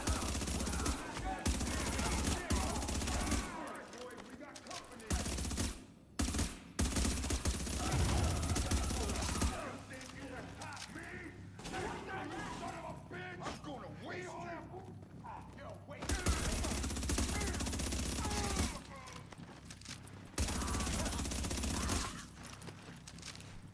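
Rapid FAMAS rifle bursts fire in The Division, loud fusillades broken by short pauses and quieter stretches, with game sounds and a voice talking between the volleys.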